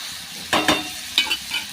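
Onion fries in a pan for a soybean curry, with a steady close sizzle broken by a few short scraping stirs.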